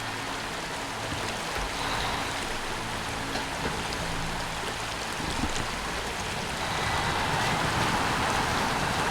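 River water in the SnowRunner video game, a steady broadband rushing and splashing flow that holds throughout and swells slightly louder toward the end, with no voices.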